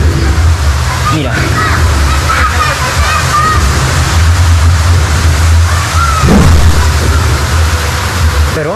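Water pours down to turn the Sabandía mill wheel near Arequipa, a constant loud rushing and splashing roar with steady low rumble, close by, while voices are heard over it.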